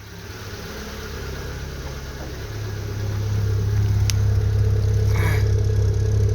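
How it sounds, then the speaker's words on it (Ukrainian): A BYD F3 car engine idles steadily with a low exhaust hum that swells slightly louder partway through, with a brief click and a faint higher whine near the end and no talking. "Слухаємо вихлоп."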